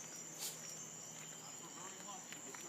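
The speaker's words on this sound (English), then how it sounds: "Get that cicada." A cicada gives a thin, high, continuous buzz in the background, faint and steady, with brief rustling noises and a dog nearby.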